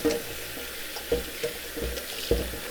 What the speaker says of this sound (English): Gotta make sure to rinse your beans nice and good.